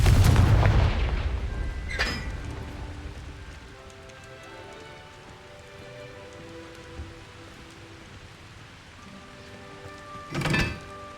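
A Confringo blasting spell in Hogwarts Legacy goes off as a loud, booming explosion at the start, followed by a long rumbling, crackling decay, a sharp crack near two seconds and another heavy blast near the end.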